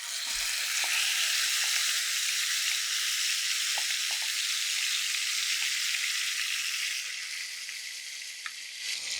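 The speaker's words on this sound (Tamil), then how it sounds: "நம்ம மேரினேட் பண்ணி வச்சுருக்க பன்னீரையும் இதில் ஆட் பண்ணிடலாம்." Marinated paneer sizzles in a pan with cumin, giving a steady, close hiss of frying oil with a few faint clicks and stirring touches throughout, and no voices.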